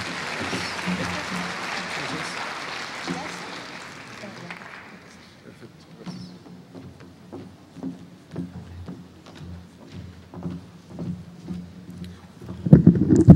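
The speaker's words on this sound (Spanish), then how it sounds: "para quienes pido un fuerte aplauso" An audience at a medical lecture on pregnancy and diabetes claps for a hospital obstetrics specialist: dense applause for about five seconds that fades out, followed by someone speaking with scattered sounds before a brief loud burst at the end.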